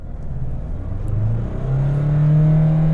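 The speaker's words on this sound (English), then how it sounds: "Revving the motor, and off we go." A Mahindra Scorpio Classic, a rear-wheel-drive SUV, pulls away with its engine revving, a loud close-up droning note that climbs steadily in pitch and volume as it accelerates in first gear.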